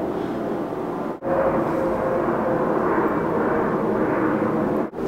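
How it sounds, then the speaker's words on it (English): An airplane passes overhead as a loud, steady broadband roar that fills the whole stretch, with two brief dips in level; no one talks. "Really, another freaking airplane."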